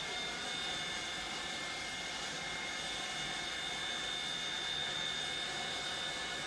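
Steady, faint jet engine roar of an Antonov aircraft in a flight simulator game with the landing gear lowered in flight, a continuous broadband hum with a thin high whine and no speech.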